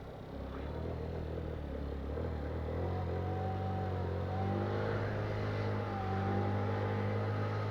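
An Rks Bitter 50 motorcycle engine climbs a hill, holding a steady, loud drone with a rising whine that stays constant throughout and no talk over it.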